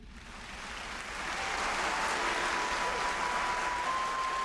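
Dense, even applause welcoming people in an anime scene, a continuous crowd wash of clapping that swells slightly after the start and holds steady.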